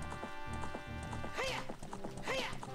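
Epona, the horse in the video game Zelda: Ocarina of Time, trots with rhythmic clip-clop hoofbeats and whinnies twice, each neigh sharp and close over steady background music.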